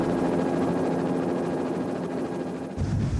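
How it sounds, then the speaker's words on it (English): A helicopter flies near an erupting volcano, its loud, steady rotor drone and engine roar filling the scene without pause. "Mark Davies can't just watch from the safety of the helicopter."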